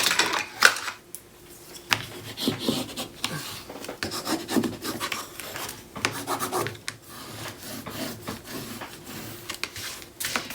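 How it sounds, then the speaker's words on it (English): Tape and paper on a 7 1/2 x 9 1/2 mini album base are burnished by hand, giving close, repeated scratchy rubbing strokes in an irregular rhythm with no talking. "I'm going to burnish everything."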